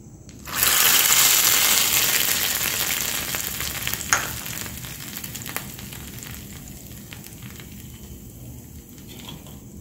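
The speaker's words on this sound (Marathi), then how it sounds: "याच्यामध्ये आता हा तडका आपण टाकून द्यायचा आहे केलेला" A hot tempering (tadka) is poured into chutney, erupting in a sudden loud sizzle that slowly fades into softer crackling, with a couple of sharp clinks.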